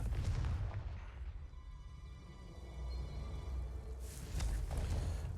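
A Confringo fire spell detonates in Hogwarts Legacy, a deep booming blast with rumbling low end that swells twice over the few seconds amid game ambience, loud and close.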